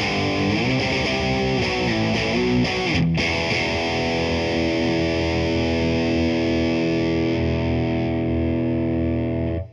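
A thick, overdriven electric guitar through a Bad Cat boutique amp rings out in sustained, gritty 70s-style chords, loud and continuous, slowly fading at the end.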